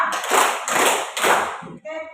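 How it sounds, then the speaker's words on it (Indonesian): Group of people clapping hands in unison while counting the claps aloud, a few loud, broad bursts of applause-like slaps with voices mixed in. "Tepuk 1, tepuk 2, tepuk 3"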